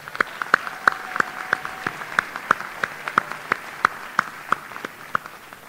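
Scattered claps from the audience at a STEAM Academy graduation ceremony, a steady series of sharp, distinct hand claps at a moderate level rather than a dense roar.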